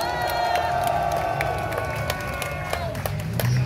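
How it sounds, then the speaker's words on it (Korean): A crowd cheers and claps after a rousing political rally speech in Cheongju, a steady wash of applause with shouts and whoops throughout, loud and continuous with some voices mixed in. "큰 박수 부탁드리겠습니다"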